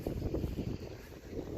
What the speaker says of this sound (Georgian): ქარიანი ამინდია რა,